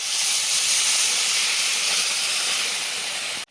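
Fish broth with green chilli and chopped onion poured into a hot pan of jute leaves, giving a loud, steady steamy hiss that holds close and unbroken before cutting off abruptly at the end.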